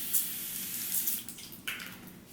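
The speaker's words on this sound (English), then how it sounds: "I'm going to spray it all over my face for hydration" Evian facial mineral water spray hisses onto a face in short close bursts, a couple of quick mists with a brief pause between, in a quiet room.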